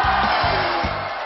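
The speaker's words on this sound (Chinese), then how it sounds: "潘帅斗兽场，尖叫加鼓掌。" A studio audience at a live Chinese comedy show screams and applauds, a loud, dense, continuous wash of crowd noise lasting about a second.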